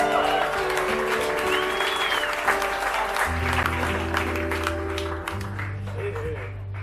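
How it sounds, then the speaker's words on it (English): Sustained applause for a newly married couple at a wedding reception, a dense, steady clatter of many hands over low background music, fading slightly near the end. "Give them a huge round of applause."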